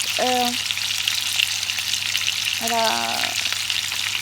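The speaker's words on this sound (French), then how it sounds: "les morceaux de viande hachée que je fais cuire. Je fais dorer des deux côtés." Ground beef pieces browning in a pan, a steady close sizzle throughout, with a couple of brief tonal squeaks rising over the frying.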